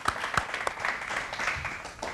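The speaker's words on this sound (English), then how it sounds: "Let's have a big round of applause to them." Audience applause at a school demonstration-based science quiz show, a short burst of clapping with some voices mixed in, moderately quiet and fading by the end.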